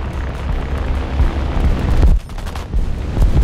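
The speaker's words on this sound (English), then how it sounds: "He's dropping bombs at us." In War Thunder, bombs dropped by an enemy aircraft near a CR.32 quater fighter burst as deep, rumbling booms amid continuous loud gunfire, with a sharp blast near the middle and no one talking.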